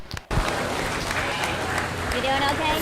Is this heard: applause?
yes